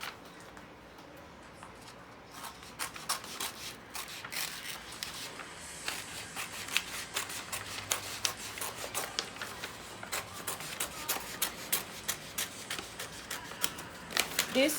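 Fabric being cut for a girl's bonnet while sewing, a steady run of soft snipping and rustling clicks that grows busier after the first couple of seconds and continues throughout, close and moderately quiet.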